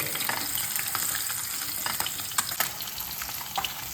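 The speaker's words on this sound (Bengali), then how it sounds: "এইভাবে আমি সব মাছগুলোকে ভেজে দেব" Katla fish frying in hot mustard oil for a Bengali doi katla curry, a steady dense sizzle and crackle with occasional sharper pops, close and continuous throughout, no talking.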